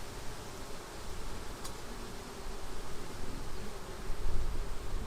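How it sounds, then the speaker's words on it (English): Honey bees hum around a hive being split to curb swarming, a steady close buzz with a brief higher whine passing once, no voices. "they're plugging the brood nest with nectar"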